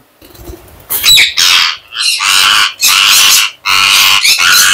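Ringneck parakeets squawk loudly and harshly in repeated bursts as they are caught by hand, with sharp calls following one after another and no talking.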